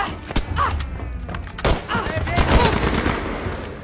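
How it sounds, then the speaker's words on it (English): Gunfire and a grenade blast in a video game, with dense rapid shots and thuds running throughout, loud and continuous, with a sharper burst near the middle; a voice reacts over the action. "You don't throw a grenade at me."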